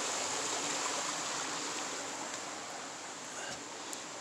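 Steady rushing water flowing on a ranch, a dense continuous wash of sound, close and uniform throughout with no voices.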